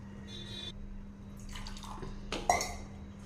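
Water is lightly sprinkled by hand onto butter murukku dough in a kitchen, heard as a few soft, brief splashes and drips near the end over a faint background hum.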